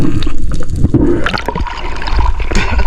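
Strong water current rushing and gurgling close by during a spearfishing dive, a steady churning wash with splashy bursts throughout and no voices.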